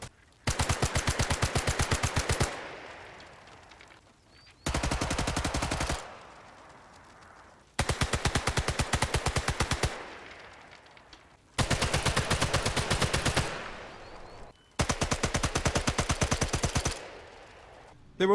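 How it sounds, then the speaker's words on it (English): Automatic weapons in Sniper Elite 5 firing five loud sustained bursts of a few seconds each, separated by short pauses with echoing tails fading between them. "The sound of the guns in Sniper Elite 5 are very impressive."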